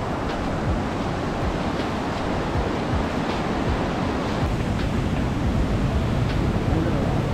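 Rushing water from a monsoon waterfall roars as a dense, steady wash with a windy edge, loud and continuous throughout the clip without any clear voices.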